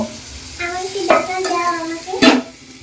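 Chicken sautéing in a pan with green and dried chillies gives a steady sizzle under muffled clatter, with two sharp spatula knocks against the pan.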